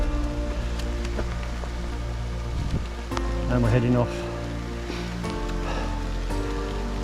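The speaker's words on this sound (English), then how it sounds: "it's raining. It's the first rain I've had on trail" Steady rain patters across the whole recording on the Appalachian Trail, a broad hiss with scattered drops, while someone speaks briefly over it.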